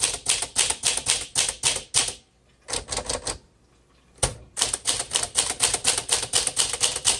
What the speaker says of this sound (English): So yes, this is a book writer's typewriter.